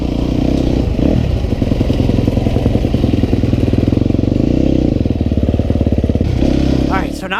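Dirt bike riding at night, the motorcycle engine droning loud and close with steady rhythmic pulsing, a clattering of gravel or scraping underneath, and speech-like voice sounds mixed in.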